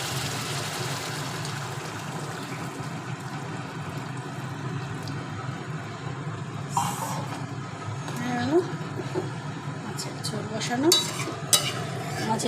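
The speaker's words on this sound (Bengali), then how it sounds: "মাছের ঝোলের মশলাটা কষা হয়ে গেছে এবার জলটা ঢেলে দেওয়া" Water is poured into a pan of fried fish curry spice mix and stirred. A steady sizzle and stirring scrape run throughout, with sharper scraping and clinks toward the end.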